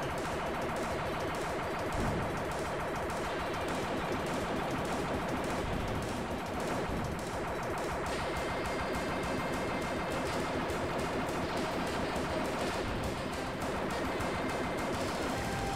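Rapid, continuous weapon fire from the retro video game Total Eclipse, loud and dense, with a steady chattering burst pattern running the whole stretch over a busy electronic game soundtrack.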